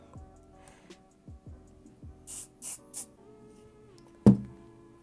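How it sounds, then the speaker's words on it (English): Three short hissing bursts of spray in quick succession, faint and close, between soft tapping and clicking handling noises, ending with a sharp knock. "take a little bit of hairspray and just spray it on"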